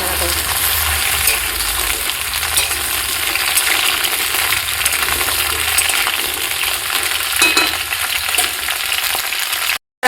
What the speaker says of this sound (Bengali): পটলগুলো আমি এবার তেলের মধ্যে দিয়ে দিয়েছি